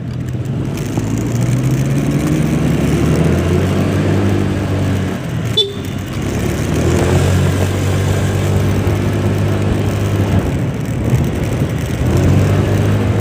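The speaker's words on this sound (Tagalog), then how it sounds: "Car wash motor." A car wash motor runs steadily, a loud continuous mechanical hum with a brief sharp knock midway, close and unbroken throughout.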